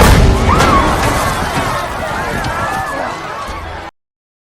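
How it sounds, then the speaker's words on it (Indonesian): A bomb detonating on a building floor in an action film, a loud broadband blast with rumbling debris and crackle sustained for nearly four seconds, then cutting abruptly to silence. "setelah itu bom pun meledak di lokasi lantai itu"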